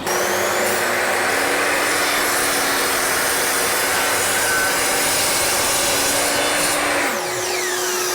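A table saw runs continuously while cutting wood for a crosscut sled, giving a loud, steady whine with a broad rushing roar. Near the end the motor pitch drops as the blade spins down. No speech.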